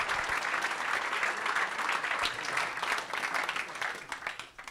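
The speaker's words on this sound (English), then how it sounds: "So give a good applause" Audience applause at a satellite launch event, a dense steady wash of many hands clapping that carries throughout and tapers slightly at the end.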